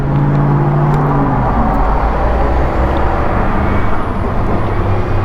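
Riding a motorcycle on the road produces a constant, loud engine and wind roar with a low drone, unbroken and close throughout.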